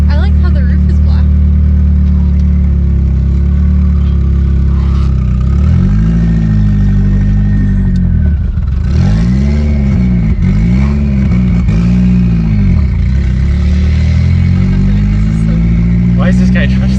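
A Mitsubishi Lancer Evolution X engine drones loudly and continuously while driving, with repeated rising and falling revs midway, under people talking in the car.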